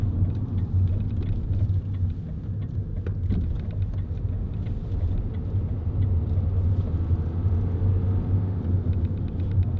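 A 2000s-era Vauxhall Zafira 1.9 CDTi 16v SRi five-door diesel driving along, its steady low engine and road rumble filling the cabin continuously and fairly loudly, with no one talking.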